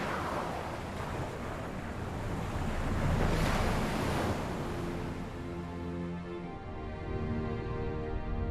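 Ocean waves surge and wash steadily throughout, a broad roar of surf with a louder swell near the middle, set against a windy open-sea background.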